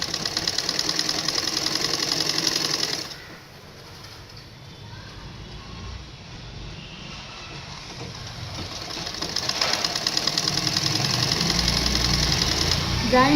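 A sewing machine stitches a blouse, joining a seam in a loud steady run, pausing quieter mid-way before the stitching picks up again; a voice speaks over it.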